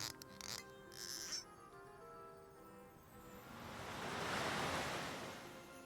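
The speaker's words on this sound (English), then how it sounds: "Actual sound of cork in the sea." Sea waves from the video game Visions of Mana wash in steady broadband surf as a bottle drifts off, swelling louder toward the end after a few brief chimes at the start.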